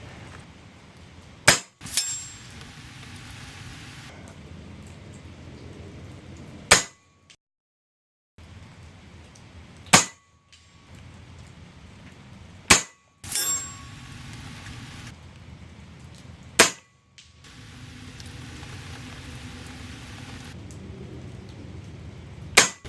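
Sharp metallic clangs of air rifle pellets, fired from an Evanix Monster PCP rifle, striking a heavy metal spinner outdoors, about six distinct hits spaced a few seconds apart with faint ringing, no talking.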